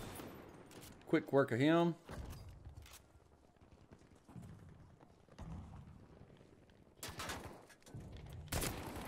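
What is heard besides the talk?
gunfire in the video game Battlefield 5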